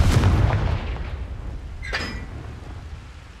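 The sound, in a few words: Confringo fire spell blasts in video game Hogwarts Legacy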